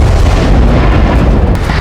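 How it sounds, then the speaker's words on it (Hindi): A missile explosion near Lviv, Ukraine, lands as a loud, dense booming rumble with heavy low-end energy that sustains for a couple of seconds, with a sharp crack near the end. "धमाका लवीव के करीब"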